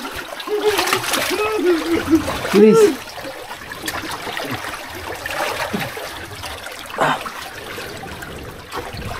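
Water splashes and sloshes around people wading at sea near a floating rock island as the water deepens, intermittent close splashes mixed with urgent talking.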